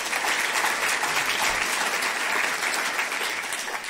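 Dense, steady applause from an audience at a climate event greeting a sustainability officer, a continuous wash of many hands clapping at even loudness throughout, with no talk over it.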